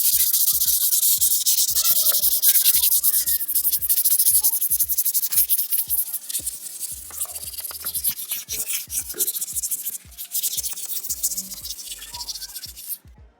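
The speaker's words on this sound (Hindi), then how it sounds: "तो दोस्तों अभी हमने यहाँ पर ये सैंडिंग कर लिया है" Sandpaper rubbing over wall putty on a house wall, a rhythmic back-and-forth rasping in quick repeated strokes, close and steady, with no talk.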